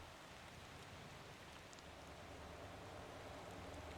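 Steady rain falls in the driving game Motor Town: Behind the Wheel, a constant, even hiss of raindrops that is faint but continuous throughout, with no other sounds standing out.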